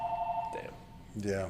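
A telephone rings in a jiu-jitsu club with a steady electronic tone, and a brief second ring follows a moment later, while people talk close by.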